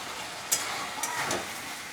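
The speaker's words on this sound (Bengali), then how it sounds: "এর মধ্যে আমি একবারে ঝিঙেটা দিয়ে একটু ভালো করে কষাবো" Ridge gourd sautéing in hot spiced oil in a pan, a steady soft sizzle with a few sharp crackles and a light stirring scrape, close and alone.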